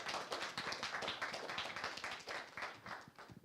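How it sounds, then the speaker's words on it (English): A small audience at a law school moot court competition gives a brief round of applause, quiet and somewhat distant, with individual claps audible in a quick uneven patter. "Give them a round of applause."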